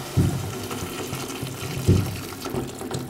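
Water poured into a pot of spinach and potato soup, a steady close running flow with a few soft thumps, no talking.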